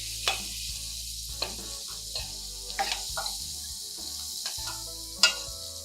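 Onions sizzle in hot tempering oil for flattened-rice upma with a steady, crackling hiss, broken by a few sharp clinks and stirring sounds.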